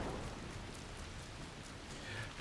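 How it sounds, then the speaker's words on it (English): Spring rain falls steadily in the video game Assassin's Creed Shadows, a soft, even hiss of drops on surfaces with faint patters throughout and no voices. "Ah, spring rain."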